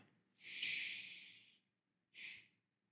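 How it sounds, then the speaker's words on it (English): A slow, deep breath drawn in through the nose for about a second, a brief pause, then a shorter audible exhale, close and soft with no talking. "Take a deep breath."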